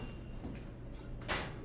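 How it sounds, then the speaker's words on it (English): Sliding door in the horror game Syndrome, a single brief pneumatic whoosh near the end preceded by a faint electronic beep, set against a quiet low droning background. "I swear to God, I hate these doors."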